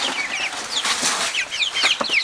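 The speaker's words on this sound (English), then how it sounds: "We're very excited to have chickens." Several chickens, including bantams, cluck and chatter close by, overlapping short rising calls in a busy, continuous flurry.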